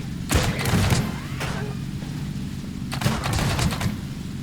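Bursts of blasting and crackling from a bomb going off in the survival building game Scrap Mechanic, two loud clusters of rapid booms and pops separated by a brief lull.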